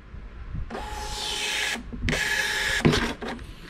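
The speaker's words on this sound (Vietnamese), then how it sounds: "Máy in rất là nhanh nha các bạn, máy in wifi nhưng mà rất là nhanh." A wifi thermal receipt printer, model N160i, runs a quick print job with two bursts of buzzing, whirring feed followed by a short clack and a brief rattle, all close and with no talking.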